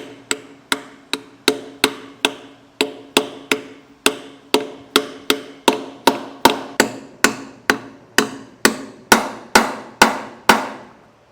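A cap driver taps the dust cap of an Easy Grease trailer idler hub into place, producing a long run of crisp metallic hammer blows. The blows are close and loud, steady at first and then quickening slightly.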